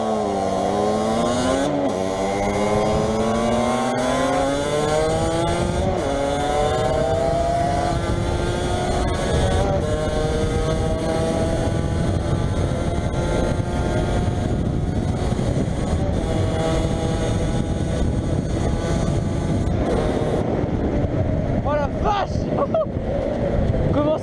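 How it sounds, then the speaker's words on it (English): A Derby 50cc motorcycle with an aftermarket exhaust, otherwise stock, revs hard and rises in pitch through repeated sweeps, a loud buzzing two-stroke whine close to the microphone with wind buffeting throughout, easing off near the end. "on va tester la moto, mon pote là. Un pot technique gaz, sinon elle est d'origine"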